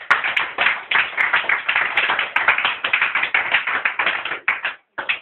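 A church congregation applauds in steady, dense rhythmic clapping, loud and close, continuing for several seconds before breaking off near the end.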